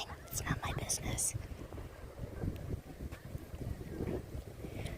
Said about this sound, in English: Jesus, so windy. You'd probably hear the wind.